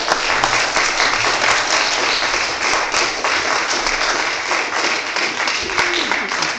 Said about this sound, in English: You've achieved spontaneous applause